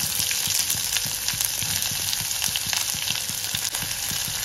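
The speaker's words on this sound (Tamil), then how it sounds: "அடுப்பை குறைச்சி வச்சு கொஞ்சம் வதக்கிக்கலாம்." Dried chillies, curry leaves and onion fry in oil in a pan, giving a steady, close sizzle with soft stirring scrapes ticking through it at a regular pace.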